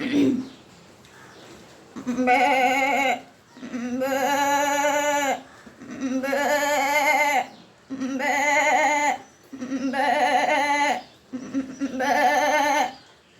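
A person repeatedly imitates a goat's bleat, giving six long wavering cries with short pauses between them.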